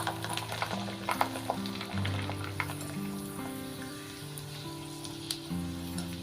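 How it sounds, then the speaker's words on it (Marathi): Sal papad frying in hot oil over a medium flame for a fasting-style sabudana chivda: a steady, close crackling sizzle runs throughout, with low tonal hum beneath and occasional sharper pops. "आता सालपापड्या तळून घेऊया."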